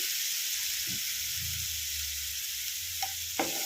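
Spiced masala frying in a pan with a splash of water, a steady close hiss and sizzle running throughout, with a few soft stirring scrapes over low background hum.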